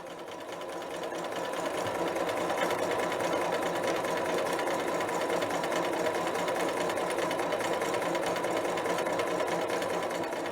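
A sewing machine stitches a collar onto a McCall's 8031 dress, running in one long, steady, even whir close by, with no talking.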